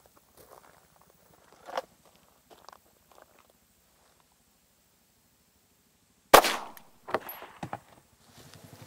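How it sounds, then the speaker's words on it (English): A 9mm round is fired into a 15-year-old body armor vest at close range, giving one sharp, loud report. Faint footsteps and handling noises come first, and a few lighter clicks and knocks follow. "We're gonna shoot the vest again with a 9mm."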